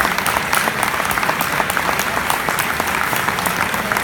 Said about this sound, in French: j'aimerais vraiment compter sur vos applaudissements pour monsieur et madame Linder